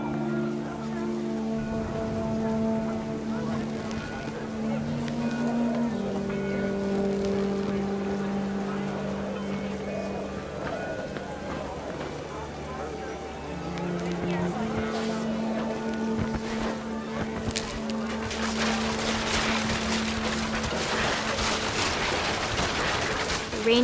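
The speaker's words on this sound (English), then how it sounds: "Rain came down in buckets then" Steady heavy rain in the video game What Remains of Edith Finch hisses throughout with a low droning hum and tonal music layered underneath, growing noisier toward the end.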